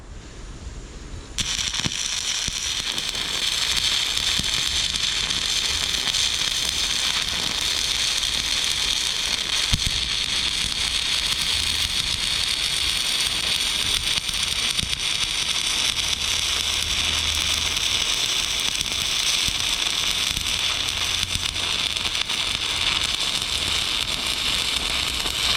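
Welding passes are laid on a drill rig Kelly bar adapter, giving a continuous dense crackle and sizzle that holds steady for about 24 seconds after a sudden start, close and fairly loud.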